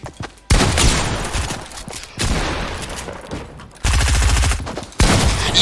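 Loud bursts of gunfire in Fortnite, with several hard volleys separated by short pauses and close, punchy shots.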